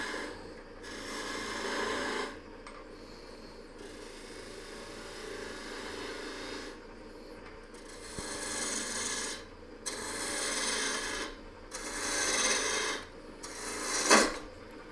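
A spindle gouge cuts into a spinning wooden coffee scoop blank on a lathe turning at about 2,500 RPM, giving repeated rough rasping bursts of a few seconds each, separated by short pauses, fairly close and alone.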